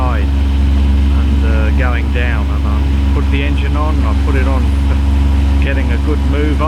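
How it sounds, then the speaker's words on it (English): A sailboat's auxiliary engine runs at a steady, loud idle-like drone throughout, with a person talking over it. "And I put the engine on"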